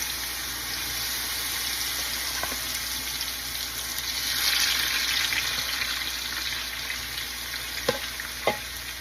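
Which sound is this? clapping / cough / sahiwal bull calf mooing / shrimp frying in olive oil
shrimp frying in olive oil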